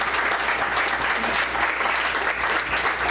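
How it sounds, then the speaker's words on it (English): Loud, sustained applause from an audience thanking five guests at a living-history event about the City of Ohio, a dense continuous roar of clapping with no gaps or distinct voices. "If we could give them a round of applause, all 5 of them."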